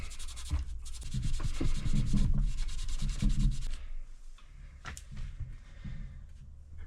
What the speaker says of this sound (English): I'm just going to use this little bit of polishing compound just to give them a little